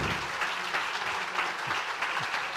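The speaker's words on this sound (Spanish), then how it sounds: "Por favor, un aplauso para Miguel." A live audience at Magic applauds to welcome Miguel Pedrero, a short burst of thick, steady clapping heard close and fairly loud with no break.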